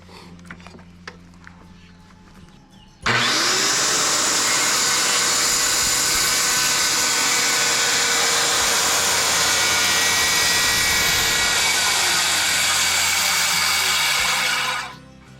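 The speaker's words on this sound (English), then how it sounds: "I don't want the skill saw to go past that corner and weaken that part of the beam" A circular skill saw cuts a notch into a reclaimed lumber beam, starting abruptly after a few quiet seconds and holding a loud, steady whining roar for about twelve seconds before winding down.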